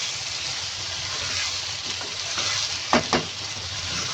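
Taro pieces fry in oil with a constant, even sizzle while a spoon stirs them, two quick scraping knocks standing out near the end; no one speaks.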